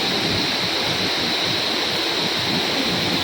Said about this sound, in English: to meet the waterfall